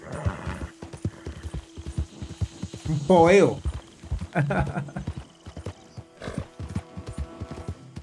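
Horse hooves clip-clopping and a loud neigh in Red Dead Redemption 2, with steady hoof beats throughout and someone talking over them.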